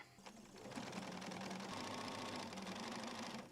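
A sewing machine runs continuously, stitching fabric down to the corner of a scrap quilt potato chip block, its fast, even mechanical whirr steady and fairly quiet after a brief start.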